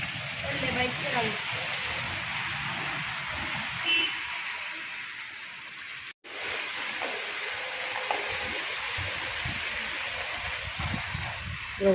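Steady rain hisses over a road flooding with water, a dense, continuous wash with low rumbles underneath and brief faint voices in the background.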